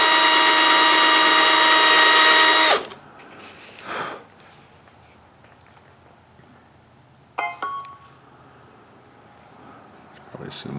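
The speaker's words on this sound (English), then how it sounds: "I'm going to drill this right underneath that button." A power drill bores into material just beneath a button: one loud, steady high-pitched whir for under three seconds, then it stops, leaving faint handling clicks and rustles.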